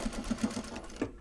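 A sewing machine running in short bursts while winding a bobbin gives a quick series of soft rhythmic whirring pulses, close and quiet, ending abruptly.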